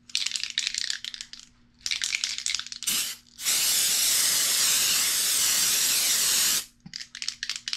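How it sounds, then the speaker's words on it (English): Aerosol glitter spray hisses onto face, shoulders and chest in several bursts: short sprays, then one long continuous blast of about three seconds, followed by another short spray. "I want to spray my face and my shoulders and chest area with the spray glitter."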